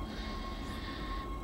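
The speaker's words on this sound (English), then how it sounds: "I'm going to step onto the tram" Tram ride in the video game Dead Space, a low steady rumbling hum of the moving rail car with a faint whine, quiet and continuous with no talk.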